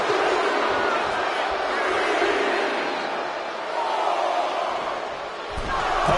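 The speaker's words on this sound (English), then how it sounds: "And Berto is revving this crowd up." Arena crowd noise in WWE 2K25 during an Intercontinental Championship tournament match: a steady, loud roar of cheering fills the whole stretch, with no clear speech over it.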